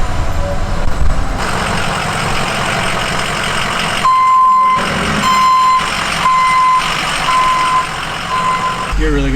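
A diesel truck engine rumbles close by while high reversing beeps repeat at a steady rhythm through the second half, with some voices in the background.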